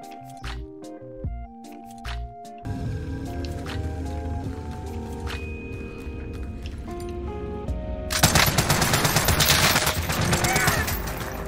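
Rapid automatic gunfire and single shots in Call of Duty: Warzone, bursts rising into a dense, loud volley near the end over game sounds and music.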